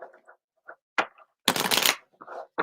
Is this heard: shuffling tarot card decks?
yes